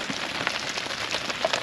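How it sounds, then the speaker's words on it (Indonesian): Rain falling steadily outside a tent at a campsite, a soft continuous patter with scattered sharper drops close by, no voices. "Ya, gini nih suasana hujan."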